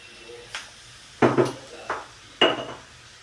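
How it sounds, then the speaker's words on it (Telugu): A utensil clatters against a bowl while homemade noodle dough is mixed with salt, giving four or five sharp scraping knocks at uneven intervals, close and fairly quiet. "సాల్ట్ వేసుకొని మళ్ళీ ఒకసారి కలబెట్టుకోవాలి, మంచిగా కలబెట్టుకోవాలి."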